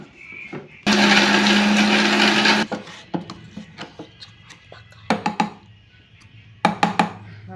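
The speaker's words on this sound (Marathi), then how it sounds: "आता मी मिक्सर लावते" An electric mixer grinder blending masala for chicken curry, a loud whirring burst of nearly two seconds followed by scattered knocks and scraping of the jar and utensils.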